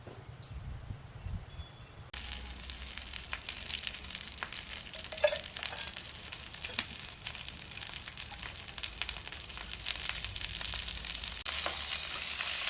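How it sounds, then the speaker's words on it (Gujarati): Chillies fry in a pan for village-style cooking, a steady close sizzle with bursts of crackle that swells slightly after a quiet first two seconds and holds through to the end. "હવે આપણે થોડાક મરસા તળ નાખીએ"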